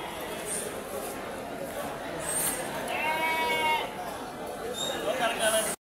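Sheep and rams bleat at a busy livestock market in Angallu, with wavering calls rising over a steady crowd murmur and nearby voices throughout.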